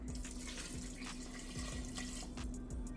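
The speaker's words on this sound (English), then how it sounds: "Along with 2 cups of water." Water runs steadily into a pan holding a peach mixture for cobbler, a continuous close pouring and splashing with no talk over it.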